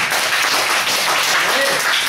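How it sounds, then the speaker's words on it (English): An audience at a comedy show gives a loud, sustained round of applause, with many hands clapping in a dense wash that stays even in level throughout. "Give yourselves a round of applause"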